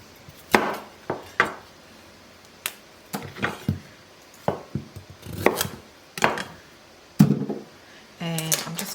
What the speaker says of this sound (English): we've got a nice big head of broccoli, which I'm just going to trim down.